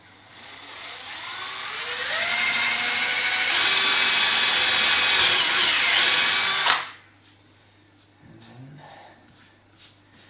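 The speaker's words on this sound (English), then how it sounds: "there's nothing else to do than taking our drill" A power drill whines steadily for several seconds while boring a hole for a ski binding mount, its pitch climbing as it bores, then cuts off abruptly, leaving a few faint clicks and handling sounds.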